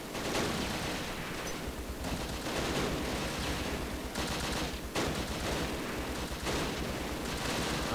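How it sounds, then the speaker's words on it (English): Dense, continuous gunfire and explosions from a Close Combat World War II battle game, with overlapping bursts and booms sustained loudly throughout and no talk. "Oh wow, they're blowing up our tanks here."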